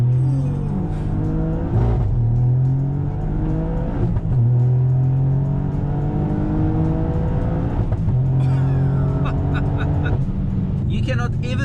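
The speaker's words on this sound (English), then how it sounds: "Let's try to do launch control in this straight line." A tuned 335hp Toyota GR Yaris with turbo, all-wheel drive and new exhaust revs and launches hard from close inside, rising through several gear changes with rapid pitch sweeps, a loud, growling exhaust throughout.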